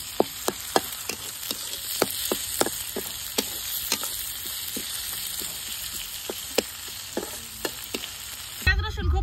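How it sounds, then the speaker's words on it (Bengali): Onion and garlic frying in a pan, a steady soft sizzle broken by sharp crackles and pops scattered throughout, close up, with a brief clatter near the end. "পেঁয়াজ রসুনটা একটু ভালোভাবে ভেজে নেই।"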